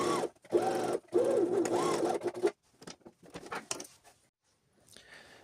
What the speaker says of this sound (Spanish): voy a coser a 1 centímetro alineando muy bien ambas piezas